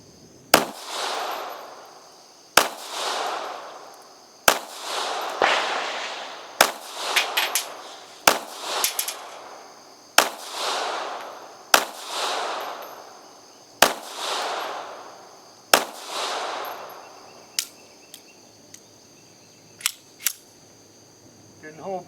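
A SCCY CPX3 .380 Auto pistol fires about a dozen sharp, loud shots at an outdoor range at 7 yards, spaced unevenly one to two seconds apart, each crack followed by a short ringing decay.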